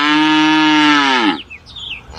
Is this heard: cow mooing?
yes